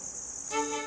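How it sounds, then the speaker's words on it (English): Crickets at an insect farm kept in open cages, a steady high shrill chirping that swells slightly louder partway through the brief moment. "So this right here, this is a cricket farm."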